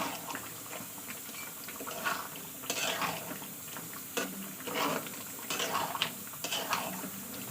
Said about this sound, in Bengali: তো ধনেপাতার কুচিটা দেওয়ার পরে আবার একটু কষিয়ে নেবো আমি।